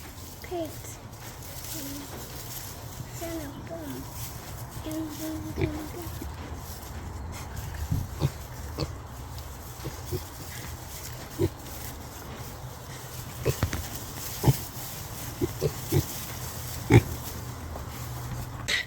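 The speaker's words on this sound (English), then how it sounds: "Yeah, they're right in their pen. Happy pigs." Pigs grunting in their pen, a low steady stream of snorts and grunts with sharper close grunts and knocks building later, under a child's and adult's voices speaking in the background.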